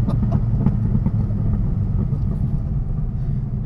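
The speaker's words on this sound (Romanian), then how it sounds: "Evacuarea, fiind ca la Shelby Cobra, pe laterale, se aude excepțional." Dodge Viper GTS Hennessey 700R with side-exit exhaust, a deep rumbling engine note idling and burbling steadily at close range with a few sharper pulses, no talking.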